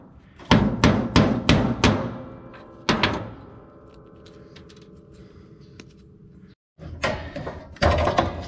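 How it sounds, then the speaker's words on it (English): A hammer strikes a heavy chunk of pure copper scrap in a recycling yard, several loud ringing metallic blows in a quick series, a lone hit, then a pause and a few more hard strikes close by. "Let's see what I can do if I hit this thing with a hammer."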